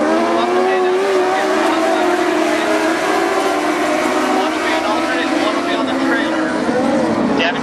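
Dwarf cars race on the Barona Speedway oval at the green flag, a dense, continuous engine roar with overlapping whining tones from several cars, loud and steady for the whole stretch.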